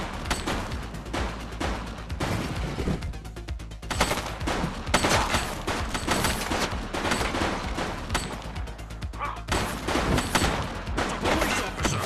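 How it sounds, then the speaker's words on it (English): Rapid bursts of gunfire crack out in The Precinct, a police video game: sharp repeated shots and volleys in uneven clusters, loud and close against a dense mix of game noise. "Shots fired."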